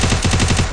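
Rapid automatic gunfire from a video game, a loud burst of evenly spaced shots in quick succession.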